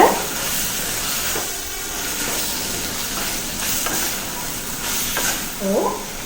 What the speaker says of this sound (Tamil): அந்த வெண்டைக்காயை சேர்த்துக்கலாம் இது எல்லாத்தையும் நல்லா கலந்து விட்டுக்கோங்க